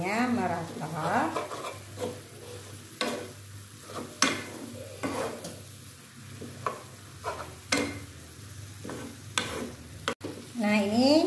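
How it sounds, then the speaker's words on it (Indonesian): Water spinach being stirred in a hot pan with salt, mushroom stock and oyster sauce: repeated scraping strokes of a utensil against the pan over a steady sizzle, close and fairly loud, with brief clanks and a voice at moments. "Kita aduk-aduk seperti ini biar garam, kaldu jamur dan saus tiramnya merata."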